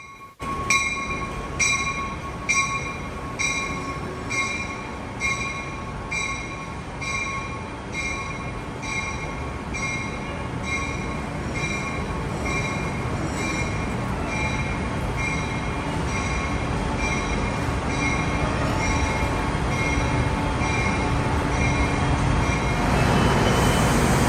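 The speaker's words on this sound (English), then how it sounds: "Then we caught a Metra pushed into the Ogleville Center by F40PH-2 133" F40PH diesel locomotives pass close by at Downers Grove with a loud, rising engine roar, a rhythmic clatter of wheels over rail joints early on, and a high-pitched whine.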